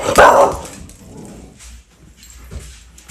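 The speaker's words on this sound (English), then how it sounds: "a little sharp bark just over her head made her look up in a great hurry" A single sharp, high dog bark, puppy-like, rings out near and loud at the start, followed by faint whimpering and quiet background sounds.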